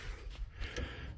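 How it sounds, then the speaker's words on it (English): The door of an abandoned 1960s Ford Falcon 4x4 van creaks open slowly, a long, rusty groaning squeal over steady outdoor background noise, close and moderately loud. "Open this door."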